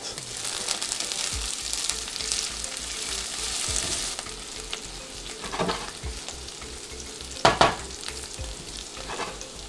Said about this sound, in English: So now I'm gonna add the chili, and we're gonna stir fry for another minute